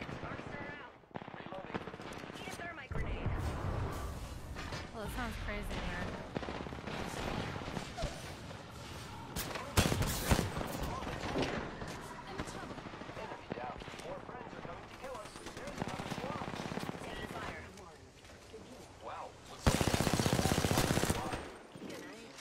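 Gunfire in an Apex Legends-style shooter played as Wattson: repeated bursts and single loud shots crackle over continuous game noise, with a player's voice talking throughout and a dense blast of fire near the end.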